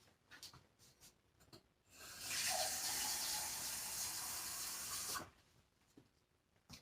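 Tap water pours steadily into a measuring cup for about three seconds, a loud, close, broadband gush that starts and stops abruptly, with faint handling sounds before and after.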